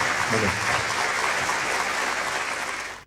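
An audience at a stage event with Jayaram and Pinarayi Vijayan gives a dense, steady round of clapping that lasts about three seconds and then cuts off.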